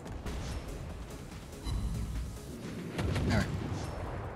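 Guns on the Z-39 cruiser in World of Warships fire in repeated booming salvos, three heavy bursts a second or so apart with a rumbling tail, moderately loud beneath a low background.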